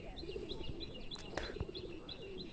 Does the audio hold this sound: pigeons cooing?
yes